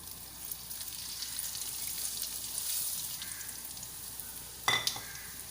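Mustard seeds and white sesame seeds with asafoetida splutter in hot oil, a close, steady crackling sizzle with a brief louder pop or clatter near the end.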